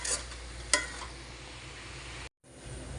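Oil heating in a cooking pan on a home stove before garlic goes in, a steady soft sizzle with a couple of sharp clinks of utensils early on and a brief cut near the end.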